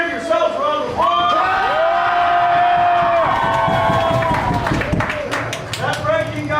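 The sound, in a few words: haunted house cast applauding and cheering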